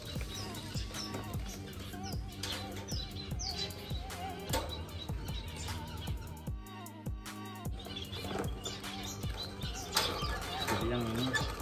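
Small caged finches, including orange-breasted birds, chirp and tweet busily at close range with brief wing flutters, set against a cluttered, noisy indoor background.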